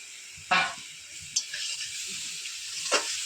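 Shrimp dropped into a pan of yogurt sauce, sizzling in a few sharp bursts that flare up and fade, with a quieter steady hiss between them and no talking.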